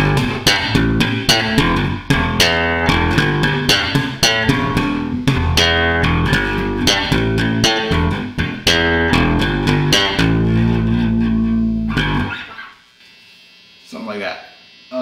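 Bass guitar played on the bridge pickup with the neck pickup nearly off, tone fully up, mid scoop and boosted gain, a busy plucked line of loud, punchy notes that stops near the end before a few quieter stray notes.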